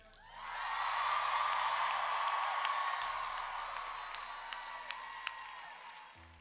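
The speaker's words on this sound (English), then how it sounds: "can we get one last cheer for these guys?" An audience at a Recovery Rocks concert cheers and applauds, swelling quickly into sustained clapping with whoops and shouts that hold steady, then gradually fade, with a few sharp claps standing out near the end.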